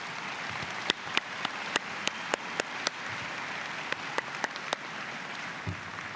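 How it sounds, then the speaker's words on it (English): Applause for faculty and staff at a spring university convocation ceremony, a steady wash of many hands clapping at a distance with a few sharper, closer claps standing out. "May I ask you, graduates, to please join me in a round of applause for MRU's fantastic faculty and staff."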